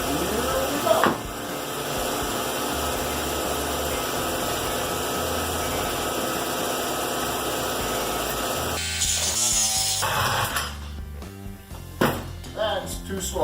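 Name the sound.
cutting bolt studs off a brake drum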